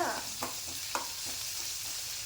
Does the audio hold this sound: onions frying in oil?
yes